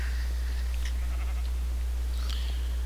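Sheep bleating in the video game Minecraft, two or three short faint bleats rising over a steady low hum, with no one talking.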